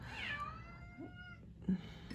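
Cat meowing indoors, a faint drawn-out meow followed by a couple of shorter chirping mews, heard alone at low volume.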